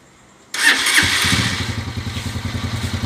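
A Honda TMX125 Alpha motorcycle bored up to 155cc fires up after a brief starter crank, then settles into a loud, close, throbbing idle with a steady pulsing beat.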